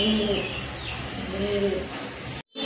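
Khaki pigeon, with a female among the birds, cooing in a low, soft, repeated throaty call close by, over a constant noisy background hum.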